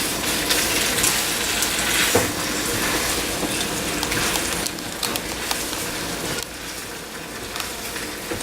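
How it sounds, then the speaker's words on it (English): Saved cooking liquid is poured into a hot pan of stir-fried shrimp, giving a loud, dense gush and sizzle that runs throughout with small clatters and dips, and no voices. "I'm going to add a little bit of the cooking liquid that I saved"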